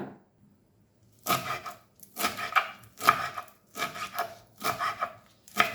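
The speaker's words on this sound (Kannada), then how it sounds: "ಸಣ್ಣದಾಗಿ ಹೆಚ್ಚಿಟ್ಕೊಳ್ಳಿ" Radish greens being finely chopped with a knife on a board, in several quick close-up bursts of rapid chopping separated by short pauses, with no talking.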